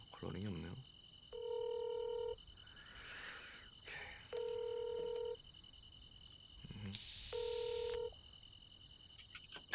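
Phone call being placed: three long ringback tones at regular intervals, each about a second long, with soft background noise and faint voice sounds between rings; no ringtone music plays.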